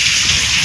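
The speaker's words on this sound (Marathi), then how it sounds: "पाऊस पण पडते." Rain falls steadily near a village with trees and a cattle tunnel, a loud dense hiss of drops on surfaces with no pauses across the short moment.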